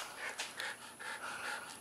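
A dog pants rapidly and close by after a game of catch, with rhythmic breathy bursts about every quarter second, heard alone in a quiet room.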